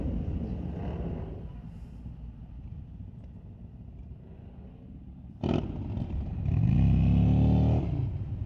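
Sport compact street-legal cars drag racing at Mission Raceway Park, heard as a steady engine drone from a distance followed by a sharp burst and a louder roaring pass near the end.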